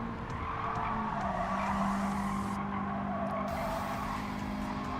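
A race car's engine roars through a tunnel in the video game Gran Turismo 7, a sustained echoing drone with tire squeal and skidding, steady and loud without any voices.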